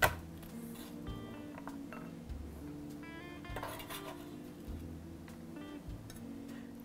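A knife crushes and minces a few shallots and garlic cloves on a cutting board in a home kitchen: a series of dull thuds comes about once a second, with light metallic clinks in between, close and fairly quiet.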